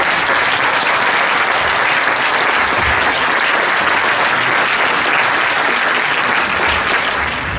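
Dense, loud applause from a conference audience in Poisy fills the whole stretch, a steady wash of clapping with no voices standing out.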